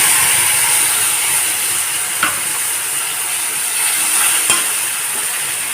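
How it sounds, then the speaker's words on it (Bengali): Nigella seeds and a mustard-poppy paste frying in the oil left from frying rui fish, a loud continuous sizzle and hiss with a couple of faint clicks of stirring, no voices. "মাছ ভাজার ওই তেলেই এখন দিয়ে দেব কালো জিরে ফোড়ন"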